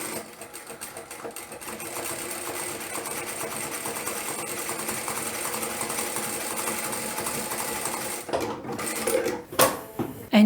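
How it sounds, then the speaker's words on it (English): A ProSew PS-1987A industrial lockstitch sewing machine stitches continuously at a fast, even mechanical chatter for about eight seconds, then stops with a few clunks and short bursts near the end. "So I can just go and start sewing"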